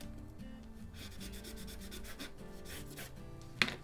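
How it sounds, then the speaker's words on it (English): Hands rubbing firmly over the back of a paper pop-up card with a flowers-in-a-vase design, a steady dry scraping rub lasting several seconds, close up, ending with a brief sharp tap. "just grab the back of this and just give it a rub down"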